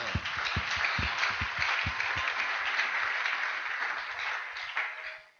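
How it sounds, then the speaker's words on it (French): A church congregation claps together, rhythmic hand claps with dense applause that holds steady, then fades and stops near the end. "Applaudissons fort d'abord le Seigneur."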